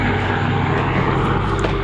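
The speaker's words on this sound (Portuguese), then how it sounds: "O helicóptero tá procurando ele" A helicopter flies in a video game, a loud, constant whirring drone that holds without pause.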